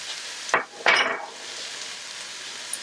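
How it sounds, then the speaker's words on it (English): Cooked pasta with green onion and mushrooms being stirred in a pan: two short scraping, sizzling strokes close by, then a faint hiss. "Stir it around a bit."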